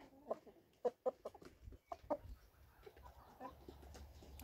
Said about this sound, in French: ça me fait encore tout drôle d'avoir un coq